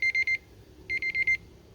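A broken phone gives off a loud electronic alarm in two bursts of rapid, evenly spaced beeps with a pause between them, and nobody talks over it.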